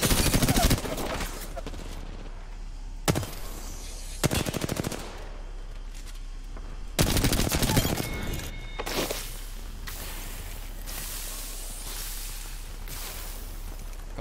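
Bursts of carbine gunfire in the battle royale game Apex Legends, several loud rapid volleys spaced across the stretch with quieter game ambience and footsteps between them.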